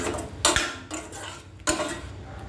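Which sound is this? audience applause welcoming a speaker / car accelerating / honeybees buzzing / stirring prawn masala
stirring prawn masala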